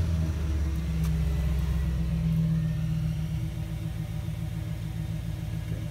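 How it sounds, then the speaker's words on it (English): A truck engine idles with a steady low rumble, rising briefly as if revving before settling into an even, continuous drone. "let me start the truck"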